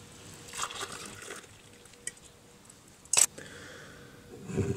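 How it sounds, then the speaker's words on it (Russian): Freshly boiled bay leaf tea is strained into a mug, giving a soft, quiet liquid trickle with a brief sharper splash or clink partway through, heard alone without talk. "Вот полученный чай процеживаем в кружку."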